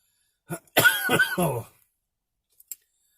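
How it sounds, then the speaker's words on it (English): A brief cluster of harsh, throaty coughs close up, followed by silence and a couple of small clicks. "It's just like this cough."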